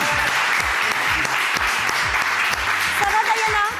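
A studio audience at a French TV talent show applauds loudly and continuously, a thick wash of clapping with a steady low thumping beat underneath, and a brief voice near the end.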